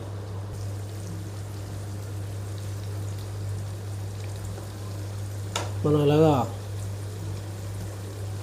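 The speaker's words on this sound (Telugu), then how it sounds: "కలుపుకొని మనం వాటర్ అనేది పోసుకోవాలి" Water pours into a pan of drumstick and egg curry with onions, a steady close hissing stream that runs throughout, with a brief bit of speech near the end.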